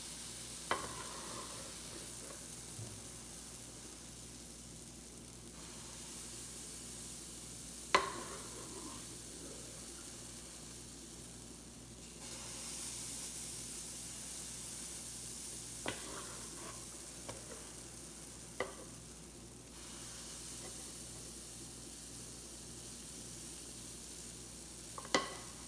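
Chocolate chip pancakes sizzle steadily in a pan, a soft continuous frying hiss broken by a few sharp clicks and taps of utensils, fairly quiet with no talk.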